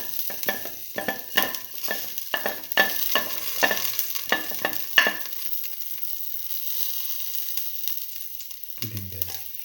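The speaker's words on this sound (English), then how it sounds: "Now put in the nigella seeds in the fennel seeds." Nigella and fennel seeds hit hot oil and sizzle, crackling and popping up close while a spoon stirs them in sharp scraping strokes, then the frying settles to a softer hiss.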